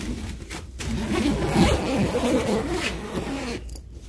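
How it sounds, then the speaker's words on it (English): A zipper on a bag packed with spare duvets in a quarantine room is pulled closed in one long continuous rasp, close and loud, without talk. "And then let's zip this back up."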